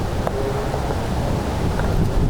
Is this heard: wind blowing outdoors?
yes